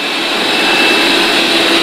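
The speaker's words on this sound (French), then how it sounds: "On entend bien l'aspirateur." Dreame Mova E30 Ultra robot vacuum cleaner running with suction on, a loud steady whirring hum with a high tonal whine, close and unbroken, with no voices.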